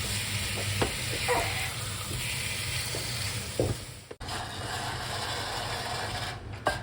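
Cubed meat browning in a pan, with a continuous sizzle broken by scattered clicks and scrapes of stirring and one sharp knock near the middle, no one speaking.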